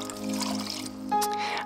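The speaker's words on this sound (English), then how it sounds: "I add them to the pot along with some water" Water pours into a cooking pot holding red lentils, a short trickling stream with a rising ringing pitch as the pot fills, close and moderately loud.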